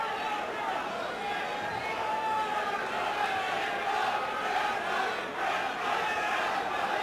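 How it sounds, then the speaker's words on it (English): At UFC 3 in 1994, an arena crowd sends up a dense, continuous roar that holds steady for several seconds and fills the space with massed voices. "Crowd starting to chant, Shamrock, Shamrock."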